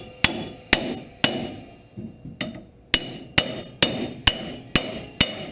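A hammer strikes a part onto splines on a hot rod golf cart, giving about a dozen sharp, close metallic taps in a fairly even rhythm with a brief pause partway through.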